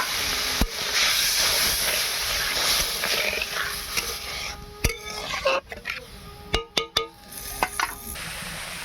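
Water poured into a hot cooking pan sets off a loud hiss of steam that fades, followed by sharp clicks, clatters and bursts of sizzling close by.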